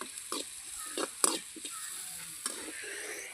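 Mustard seeds, curry leaves, dried red chillies and onions sauté in a hot pan, giving a steady close sizzle broken by several sharp spoon scrapes and clinks as the mix is stirred, with no talking.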